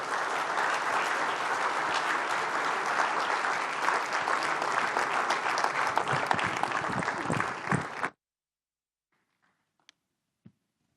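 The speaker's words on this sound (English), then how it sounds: "Another round of applause for Pastor Oyeneyin." An audience applauds Pastor Oyeneyin at a Nigerian forum on democracy and the free market economy: about eight seconds of full, sustained clapping from a sizable crowd, then an abrupt cut to near silence with a couple of faint clicks.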